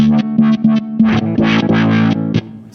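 Justin Chancellor-style fuzz and filter effect pedal on bass: gritty, distorted bass notes played in short choppy bursts, then held tones with a sweeping filtered, slightly broken edge.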